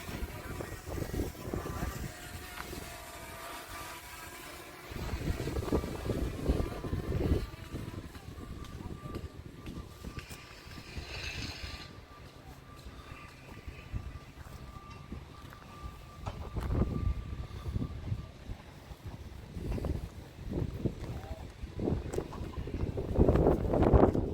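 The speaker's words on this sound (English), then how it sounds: "It is extremely windy at the moment" Gusty wind buffets the microphone with rumbling low-end bursts, rising and falling across the clip, with a faint engine-like drone in the background.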